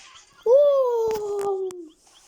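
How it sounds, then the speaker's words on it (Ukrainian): A single drawn-out dog whine, a falling high whimper lasting over a second, close and clear with a few soft clicks over it. "собака!"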